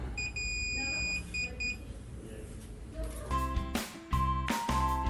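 A DAIHAN WBA-110M moisture analyzer sounding its completion alarm: a rapid series of high electronic beeps in short bursts, followed by louder clattering handling noises nearby.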